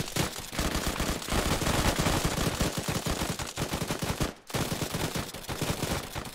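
Rapid Call of Duty gunfire fills the whole stretch as a continuous loud burst of shots during an in-game gun salute, with one brief break near the end.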